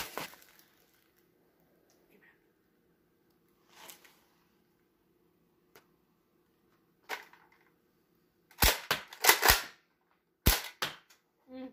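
A Nerf blaster fires foam darts in sharp, dry snaps, a few scattered shots and then a quick cluster of several more near the end, with near silence between them.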